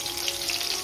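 Crushed garlic dropped into hot oil, a bright continuous sizzle with fine crackling, close and steady over a brief moment.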